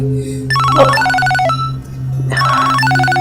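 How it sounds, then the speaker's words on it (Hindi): An electronic phone ringtone plays a loud, bright melody, repeating its tune with a brief pause in between. "हया का फोन"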